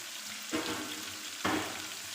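Chopped garlic with onion hits hot oil in a pan, giving a steady close sizzle with two sharper bursts of hissing as more goes in, alone with no talk.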